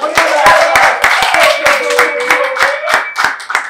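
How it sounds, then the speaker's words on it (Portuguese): An audience at a rap battle claps in a quick, loud, uneven rhythm of close hand claps, with a voice calling out over them. "Palmas, mais palmas aí"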